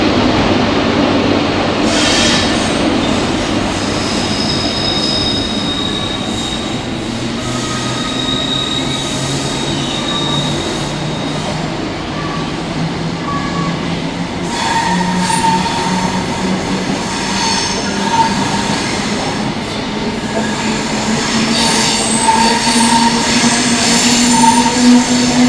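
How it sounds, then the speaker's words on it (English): Class 90 electric locomotive 90012 departs Ipswich station hauling a set of Mark III coaches toward London, a steady loud rumble of wheels with rising motor tones and occasional metallic squeal, continuous throughout. "we got 90012 departing now on the front of a Mark III set on its way to London"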